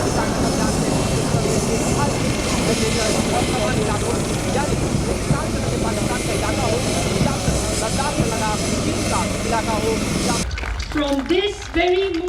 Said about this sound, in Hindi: तीनों ही फाइटर जेट देखिए किस तरह से यहाँ पर दरअसल मैन्यूवरिंग करते हुए दिखाई दे रहे हैं और आसमान से चले जा रहे हैं